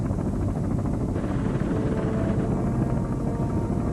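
Apache attack helicopters fly in formation on a Desert Storm strike mission against radar sites, a steady dense rotor roar that stays loud and constant throughout with no voices.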